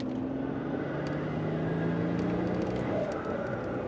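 Steady engine drone from inside a turbocharged car, a low hum with a faint rising whine near the end, continuous and fairly quiet throughout.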